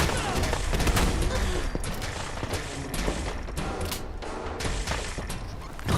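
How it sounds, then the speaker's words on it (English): Rapid bursts of enemy radiation-gun fire in the video game Fallout 4, dense overlapping shots and thuds continuing throughout, loud and close, with a player's voice occasionally underneath. "they have radiation guns"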